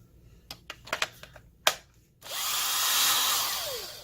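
A few clicks and handling knocks, then a 14.4 volt cordless drill whirs up and runs steadily for the last couple of seconds, close by.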